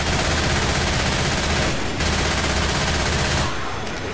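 Rapid, continuous automatic gunfire from Left 4 Dead 2 during a zombie fight, loud and close, with a dense rattle that barely pauses across the whole stretch.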